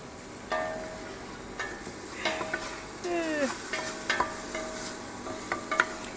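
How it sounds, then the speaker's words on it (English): Onions sizzling in a pan with salt, a steady frying hiss punctuated by scattered metallic scrapes and clinks of a utensil stirring, close and moderately quiet. "I got the onion flour. Now we're cooking them with some salt."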